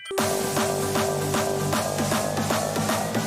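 A hardstyle remix, energetic electronic dance music with a pounding, evenly spaced kick drum and a sustained synth tone, loud and continuous.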